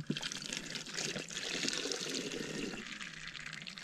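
Near-freezing water trickles and pours steadily through a camping water filter at a winter wild camp on a mountain, a close, continuous splashing that thins out toward the end.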